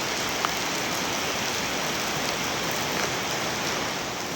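Heavy, steady rain pours down during a windy storm, a dense, unbroken hiss that stays loud and even throughout with no voices.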